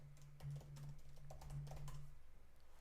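Quiet, rapid tapping of keys on a computer keyboard as a git command is typed, with soft clicks in a quick irregular run over a steady low hum.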